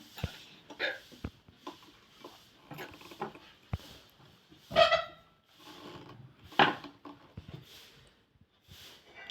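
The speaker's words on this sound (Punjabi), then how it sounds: "ਇਹਦਾ ਸੂਈ ਵਾਲਾ ਨਟ ਹੈ ਇਹਦੇ ਨਾਲ ਇਹ ਸੂਈ ਟਾਈਟ ਹੁੰਦੀ ਆ ਤੇ ਇਹਨੂੰ ਆਪਾਂ ਐਵੇਂ ਢਿੱਲਾ ਕਰ ਲਾਂਗੇ ਪੇਚਕਸ ਨਾਲ" A screwdriver works loose the needle-clamp nut on a sewing machine, giving scattered small metallic clicks and taps with two sharper scraping twists as the nut gives, close by and with no talking.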